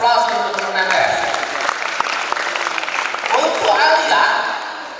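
An audience breaks into steady, full applause for MTS students at a school ceremony, a dense, continuous clapping that swells and then tapers slightly toward the end.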